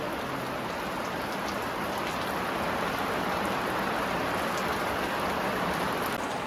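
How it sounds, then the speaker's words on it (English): Steady rain falls during a mountain trek near Parasnath, the highest peak in Jharkhand, a loud unbroken wash of patter that fills the whole stretch with no voices. "It started raining and we are just like a kilometer away from the"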